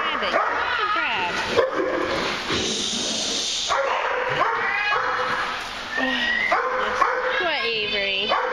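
Dogs at a doggy daycamp bark, yip and whimper in repeated bursts, close and lively, while a person talks over the noise.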